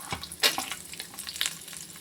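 Cashew nuts fry in hot oil for coconut rice, a close, soft sizzle broken by a few sharp crackles and stirring scrapes, with no voices.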